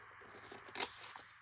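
Scissors make one short, crisp rough cut through stamped paper labels, a brief quiet snip and rasp heard alone up close.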